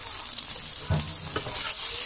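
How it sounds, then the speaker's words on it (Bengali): Potatoes fry in a pan with salt and turmeric, giving a close, steady sizzle broken by a few sharper stirring scrapes partway through. "আলুটা ভালো করে বেজে নিয়েছি, আর আলুর মধ্যে লবণ আর হলুদ দিয়ে দিয়েছি একসাথে, মোটামুটি ভালো ভাজা হয়ে গেছে।"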